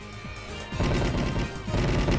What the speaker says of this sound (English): They mostly just have big warning explosions